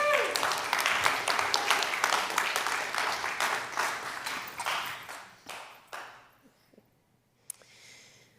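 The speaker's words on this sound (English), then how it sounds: "So some applause for Adrian and Jamie" Applause from a church congregation at a Sunday morning celebration service, welcoming two people. Steady, full clapping runs for about six seconds, then dies away into a few scattered claps and near quiet.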